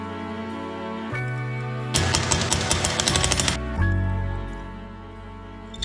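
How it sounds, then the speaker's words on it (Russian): Drill boring holes in a metal motor mount blank for a scooter engine stand: a steady motor hum, then about a second and a half of loud, rattling cutting noise, after which the motor whines on and winds down. "Сейчас их буду размечать и сверлить."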